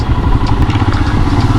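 A motorcycle engine idles steadily near a Bharatpur toll plaza on a ride to Jaipur, a loud, close, rumbling low putter with constant level and slight clatter, no voices.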